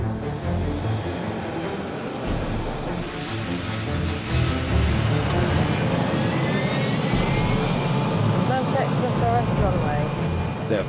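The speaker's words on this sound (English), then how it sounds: "They're finally clear for takeoff and heading for Gatwick." An easyJet jet airliner departing for Gatwick gives a steady, loud engine roar that swells as thrust builds, with voices talking over it.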